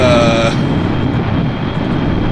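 Six engines on a plane in Kerbal Space Program roar in a loud, steady drone; a tonal whine fades out after half a second, leaving the broad engine rumble running on alone.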